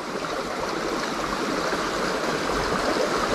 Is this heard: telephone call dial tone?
no